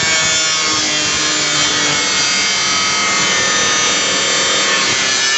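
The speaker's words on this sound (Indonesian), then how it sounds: "Kemudian untuk tangkinya ini coba kita gerinda seperti apa apinya" Angle grinder biting into a stainless steel pest-sprayer tank, a loud, steady, harsh grinding whine held continuously without a break.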